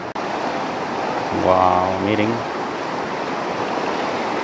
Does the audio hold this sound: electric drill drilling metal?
no